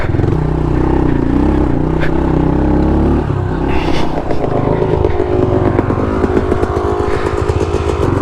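110cc pit bike engine revving and lugging over rocky single track on a Colorado hard enduro trail, loud and close, the pitch rising and falling with throttle and a rattling clatter over the rocks, no talking.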